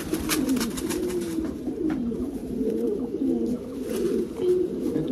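Pigeons of fancy breeds, a male and a female kept at a house, coo in low rolling bursts that repeat steadily through the clip, close and moderately loud, with no talking over them.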